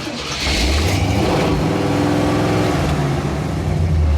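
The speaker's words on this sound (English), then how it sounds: "Blip it, just blip it with your foot." An AMC 360 V8 engine revs up and settles as the throttle is blipped, a loud close rumble with no talking.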